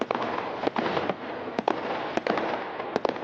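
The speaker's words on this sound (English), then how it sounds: "Fireworks." Fireworks explode in a rapid irregular series of sharp cracks and pops over a continuous crackling hiss, fairly loud and close, with no voices.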